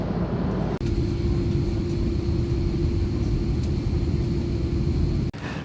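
Steady, loud broadband roar of aircraft cabin noise on board a KLM airliner in flight over the Atlantic, a constant low drone with engine hum, briefly dipping near the start and end.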